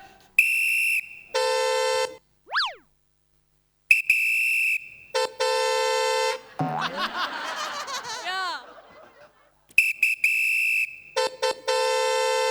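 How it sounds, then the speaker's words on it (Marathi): A vehicle horn sounds at a roadside traffic stop in Maharashtra: several loud, steady honks of about a second each come in bursts, with brief laughter and a vocal squeal between them. "फुक्कटचा हॉर्न वाजवतो इथे."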